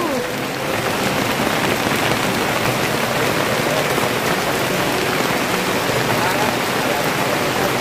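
Steady heavy rain pours down outdoors at a hut during a durian outing, a dense, even hiss of drops on surfaces filling the whole clip at constant loudness.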